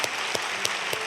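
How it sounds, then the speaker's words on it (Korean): A church congregation at a Sunday service applauds warmly to welcome newly registered members, with steady, dense clapping from a large room throughout, close and loud, no talking. "우리 박수로 뜨겁게 환영해 주시겠습니다."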